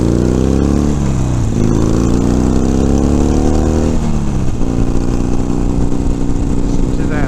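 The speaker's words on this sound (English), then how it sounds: "Listen to that Harley run. My Sportster sounds really good." A Harley-Davidson Sportster motorcycle engine runs loud and close during a countryside ride, a deep continuous rumble that rises and falls as it revs, with wind noise throughout.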